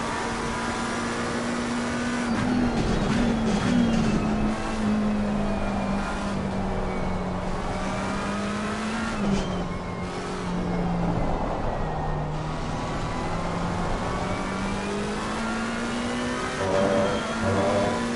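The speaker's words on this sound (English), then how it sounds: "Listen to this McLaren scream though." A McLaren race car engine in the video game Assetto Corsa Competizione, at Silverstone, screams at high revs, holding a steady droning pitch that rises and dips with gear changes, loud and continuous without any talking.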